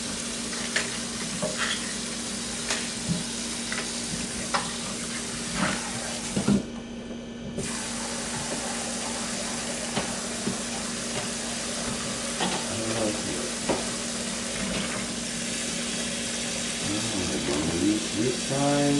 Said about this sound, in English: we want to get this in the cooking pot as soon as we can